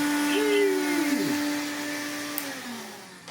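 A cordless 20V brushless Hoover Hooverette vacuum runs steadily with a high whine whose pitch dips and shifts, close and loud, sustained throughout.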